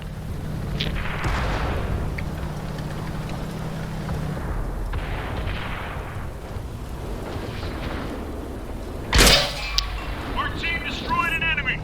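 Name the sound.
tank cannon firing, from World of Tanks video game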